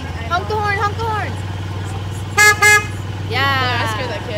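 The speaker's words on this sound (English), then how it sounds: "Honk the horn, honk the horn." Two short golf cart horn honks sound close by, with a steady engine hum and people talking before and after.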